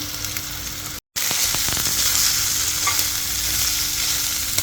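Leftover rice being stirred into sizzling masala in a pan, a steady loud fry hiss with scraping spoon strokes throughout, broken by a brief dropout near the start.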